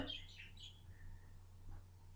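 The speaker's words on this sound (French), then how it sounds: "apparemment ça ne plaît pas beaucoup à mon oiseau que je chante" A pet bird indoors gives a few faint, high chirps and short tweets early on, then a thinner call later, over a low steady room hum.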